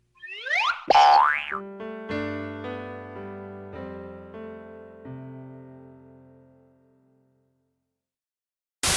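A cartoonish springy boing from the game You Don't Know Jack 2011 swoops quickly, followed by a bright descending run of bell-like chimes that ring out and slowly fade, ending with a short click.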